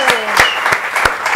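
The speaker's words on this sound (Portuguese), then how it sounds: "Para pra um aplauso." Applause from a small audience on a Brazilian barbecue talk show, a handful of people clapping in loose, separate bursts, close and fairly loud, with a voice talking faintly underneath.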